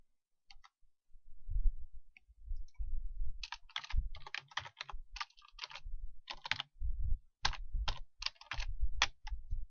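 Keys clatter on a computer keyboard as a command is typed in, close and clear, in quick irregular bursts of clicks separated by short pauses and ending in a firm keystroke like an enter press.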